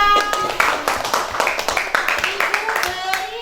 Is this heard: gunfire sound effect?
no